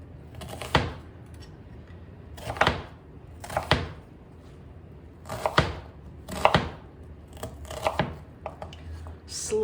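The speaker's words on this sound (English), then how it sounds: "We're gonna dice up this onion and the 2 cloves of garlic" A knife dices onion and garlic cloves on a cutting board, each chop a sharp close knock, coming in irregular clusters with short pauses between them.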